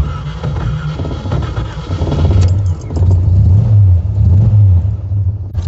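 An AMC Javelin AMX muscle car engine rumbles and revs steadily, deep and close, with rising and falling pitch as it runs, no voices.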